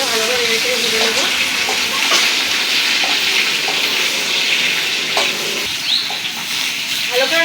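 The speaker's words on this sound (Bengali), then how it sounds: "ঝিঙেটা ভালো করে নেড়ে চেড়ে ভেজে নেবো" Ridge gourd stirred and frying in a pan for a poppy-seed dish, a steady close sizzle with scraping stir strokes throughout.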